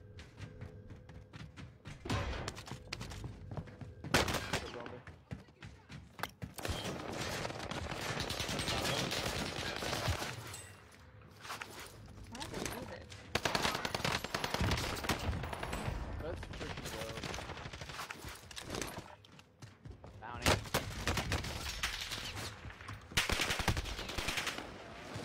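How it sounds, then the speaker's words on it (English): Sustained automatic gunfire in Call of Duty: Warzone, long loud bursts of machine-gun fire broken by brief pauses and sharper single shots, with voices talking faintly under parts of the fighting. "You were shooting from your building though."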